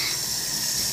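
Warm tap water running steadily into a container, a constant broadband splashing gush, close and even in level, with no voices.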